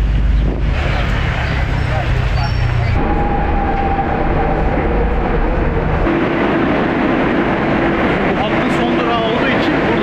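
Loud, steady rumble of a Barcelona metro train in motion, with shifting mechanical drones and rushing air filling the whole stretch.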